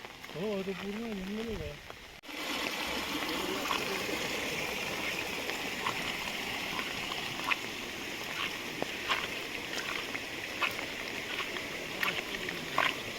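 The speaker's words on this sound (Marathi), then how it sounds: "आज खूब पाउस पडला त्यामुळे पाणी पण एकदम फ्लोइंग है" Continuous rushing of a fast-flowing stream swollen by heavy rain, beside a forest, fairly loud and steady, preceded by a brief moment of a person speaking at the start.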